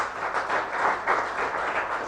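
Audience applause at the JKO UDAAN Competition 2021-22 event, a steady wash of many hands clapping at moderate loudness with no talk over it.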